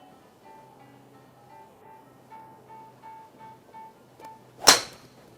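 A single sharp, bright crack of a Titleist GTS2 driver striking a golf ball, ringing briefly with a metallic ping, following a quiet stretch with a faint steady tone.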